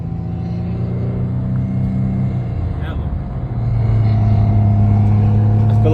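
At a car meet, a nearby car engine rumbles low and loud, then rises into a stronger, steadier rev midway, with someone talking over the engine noise.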